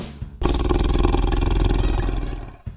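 A tiger lets out a loud, close, rumbling growl-roar that starts abruptly and holds for about two seconds before tapering off, over faint background music.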